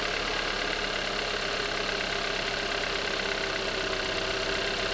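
A Hyundai Avante AD with about 123,000 km runs at a normal idle, a steady, even engine hum heard close up with no voices.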